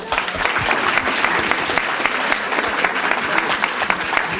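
A large audience at a Francophonie cultural event claps steadily and loudly throughout, a dense continuous wash of applause with no pauses.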